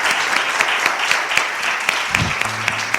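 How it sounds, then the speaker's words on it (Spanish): Audience applause for a guest author rings out loud and steady, dense clapping with a few sharper individual claps standing out, and a brief low murmur near the end. "Pido un fuerte aplauso para ella"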